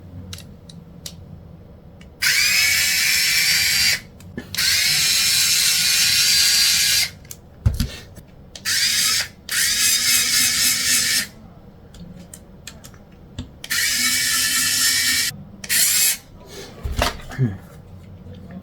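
Populo power drill driving screws into a 3D printer, heard as several loud whirring bursts of a few seconds each, separated by brief pauses and clicks.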